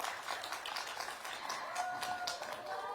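Applause from an audience at a Korean TV drama press conference greeting the director onstage, a steady wash of many hands clapping at moderate level, with a faint voice underneath.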